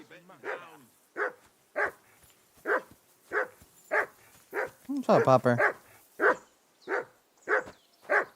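A dog barks and whimpers in a quick, steady series of short yelps at close range. A voice speaks briefly partway through.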